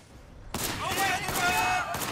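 Gunfire in the Sleeping Dogs video game: after a quiet start, a rapid volley of shots breaks out and continues as dense, loud, repeated bursts, with a voice talking over part of it.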